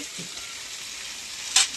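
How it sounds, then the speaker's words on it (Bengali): Dried red chillies tempering in hot oil give a close, steady sizzle, with a brief louder burst of spitting crackle near the end. "শুকনো লঙ্কা ফোড়ন দিয়ে"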